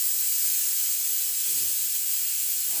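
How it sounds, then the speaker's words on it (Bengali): Steady, loud steam hiss from a pressure cooker boiling lentils (dal) on a home kitchen stove, running continuously without a break and with no voices. "প্রেশার কুকারে ডাল সেদ্ধ বসিয়ে সিটির আওয়াজ শুনতে পাচ্ছেন"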